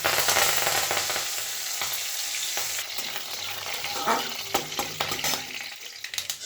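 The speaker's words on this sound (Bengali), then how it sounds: "দিয়ে দেবো প্রথমে কালো সর্ষে ফোড়নে আর দিয়ে দেবো অল্প একটু কারি পাতা" Black mustard seeds and curry leaves hit hot oil for a tempering and sizzle loudly at close range, a dense hissing crackle that eases slightly over the seconds while scattered seed pops burst through near the end.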